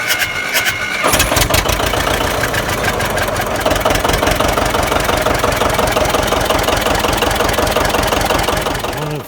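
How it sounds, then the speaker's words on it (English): A John Deere 720 tractor engine with an electric start conversion fires up after a brief crank, then settles into a loud, steady, heavy knocking run that continues without a break. "we pull the decompression lever back and we hit the button"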